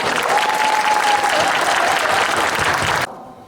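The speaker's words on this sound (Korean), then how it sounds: "고맙다고 크게 박수 한번 주시기 바랍니다." A lecture audience claps loudly and steadily in a dense, sustained round of applause that cuts off abruptly near the end.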